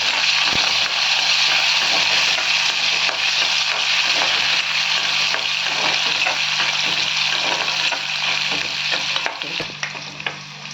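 Steady loud sizzling and crackling of onion and curry leaves sautéing in hot oil, with occasional stirring scrapes, continuous and close.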